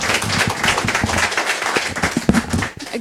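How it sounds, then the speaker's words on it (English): Audience applause for two speakers from Smalltown Coffee Company at an event, steady clapping from many hands for about three seconds with no talk over it. "let's hear a big round of applause for Annette McKeown and Elizabeth Steele of Smalltown Coffee Company"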